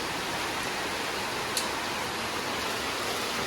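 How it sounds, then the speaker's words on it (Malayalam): Heavy rain falls steadily as an even, dense hiss of broadband noise, with one brief sharp tick partway through and no voices. "നല്ല മഴയുണ്ട്."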